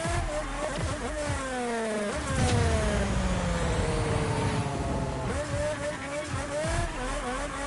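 A car drifts in small slides on a track, its tires squealing in long wavering tones over a steady engine roar, loud and close with no talk.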